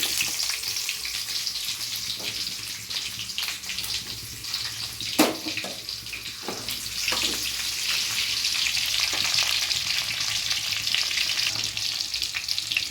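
Small shallots frying in a pan for paneer butter masala, a continuous loud sizzle with occasional stirring scrapes and clinks, no voices over it.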